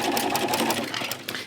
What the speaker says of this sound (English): And so we just sew it on.